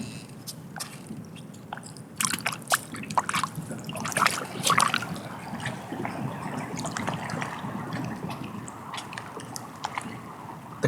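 Water trickles and gurgles around objects, with close wet splashes, drips and squishy clicks that come in uneven bursts over a soft, continuous flow.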